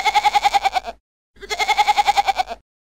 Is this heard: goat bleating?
yes